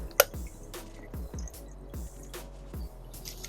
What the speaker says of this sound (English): I'm going to fill it with a little more distilled water until it's right above where it needs to be